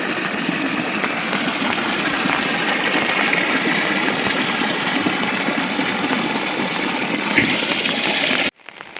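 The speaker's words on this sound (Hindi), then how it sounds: "खेतों से निकलता पानी देखिए।" Broadband, steady rush of floodwater gushing out of fields after heavy monsoon rain in Uttarakhand, loud and continuous with no voices, ending in a sudden cutoff.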